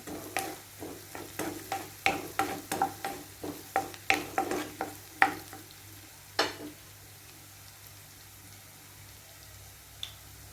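Onions hiss softly in a pan with turmeric powder added while a spoon scrapes and stirs them in quick, uneven strokes, followed by a few isolated clinks and then quiet sizzling.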